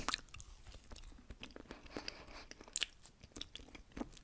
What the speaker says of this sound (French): des dégustations de gâteaux Milka